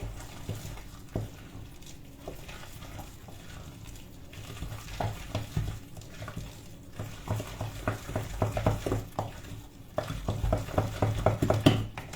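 Banana muffin batter is mixed in a bowl after mashed bananas go in, giving soft, irregular wet scraping and tapping strokes that grow busier and louder toward the end, close by and without speech.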